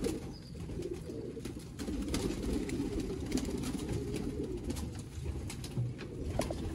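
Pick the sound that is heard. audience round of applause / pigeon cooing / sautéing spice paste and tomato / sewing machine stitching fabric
pigeon cooing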